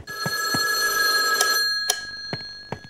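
A telephone rings inside a building in the SCP Unwanted Employment video game: a loud, bright electronic ring lasting over a second, followed by a shorter second ring, with faint footsteps between.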